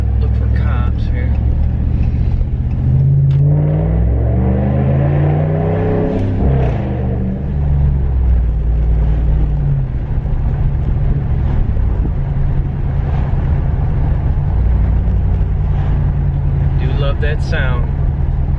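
A car with a Hemi 5.7-litre engine drones with a loud, deep exhaust rumble while cruising, its pitch sweeping up and down as it accelerates and lets off midway, sustained and close throughout.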